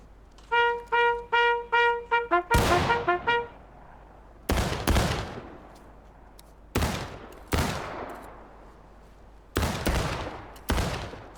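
Musket volleys ring out in the video game War of Rights during a Texas Guards volunteer drill: a quick ragged string of shots, then single loud cracks spaced a second or two apart, each ending in a long echoing tail.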